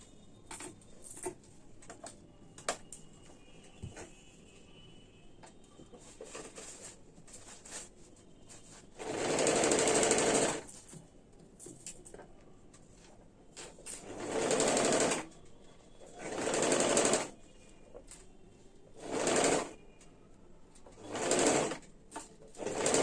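A sewing machine stitching the folded neckline hem of a kurti whirs in about six loud, close bursts of a second or two each, separated by quieter handling and pauses.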